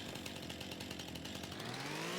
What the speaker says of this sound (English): This chainsaw is going to pay for itself.